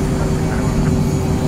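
A Phenom 100 jet lands in Microsoft Flight Simulator with a loud, steady engine roar and a dense low rumble that stays constant throughout.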